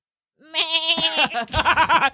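A person imitates a sheep with a wavering, nasal bleat, followed by a second choppier, pulsing bleat, close to the microphone.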